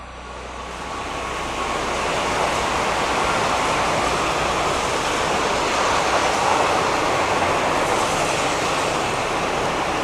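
A train rumbles past nearby as a broad, steady roar that swells in over the first second and holds loud and constant, with no voices.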